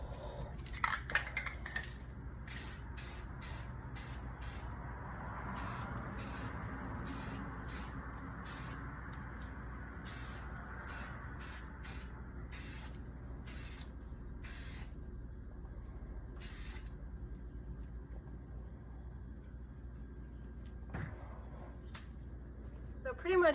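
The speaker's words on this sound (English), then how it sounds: "And then I also will spray paint the bottom." Spray paint can hissing in short repeated bursts while coating the bottom of a stainless steel tumbler, nearby and crisp, with a person talking under and between the sprays.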